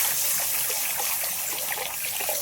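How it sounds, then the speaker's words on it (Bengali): Water poured into a pan of fried spice masala with chilli powder and oil, a steady hissing trickle and splash lasting a couple of seconds at close range, with no talk over it. "এবার জল দিয়ে দেবো।"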